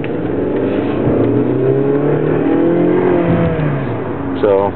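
A 2012 Chrysler 200 rental car with a 2.2 engine accelerating, heard from inside: a loud steady engine drone climbing in pitch through the gears, with a brief sharper sound near the end.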